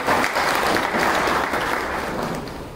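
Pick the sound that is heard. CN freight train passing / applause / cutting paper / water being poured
applause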